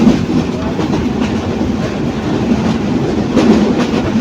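A local train runs through rural North Bengal, its wheels drumming on the rails in a dense, continuous roar with faint rhythmic clicks from the track joints.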